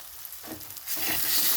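Tomato chutney sizzles and fries in a pan as its released water cooks off, a steady close hiss that swells louder partway through with a stirring scrape; no one speaks.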